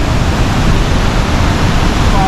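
Waterfall at Bob Marley Falls on a river, a loud, dense, unbroken roar of rushing water filling the whole clip.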